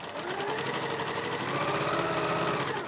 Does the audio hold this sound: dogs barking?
no